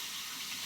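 Water runs steadily from a tap, a close, continuous hiss and splash with no pauses.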